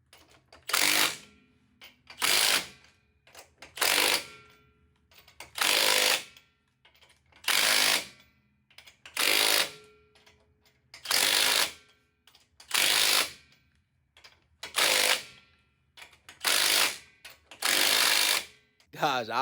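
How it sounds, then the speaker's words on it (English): An impact wrench tightens lug nuts on a Jeep JKU's 14 bolt rear axle, firing in about ten loud, evenly spaced bursts with short pauses between them. "Let's get some lug nuts put on this thing."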